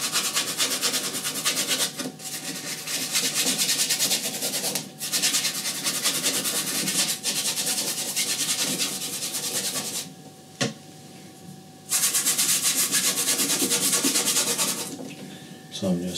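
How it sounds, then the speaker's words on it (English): A paintbrush scrubs oil paint onto canvas with a dry, steady rubbing scratch close up. The strokes run almost continuously, with a few brief breaks. "So I'm just scrubbing the colour in."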